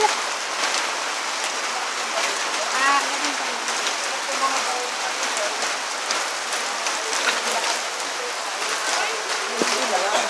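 Steady rain patters on a surface for the whole stretch, a dense hiss with scattered drops, moderately loud and without pause.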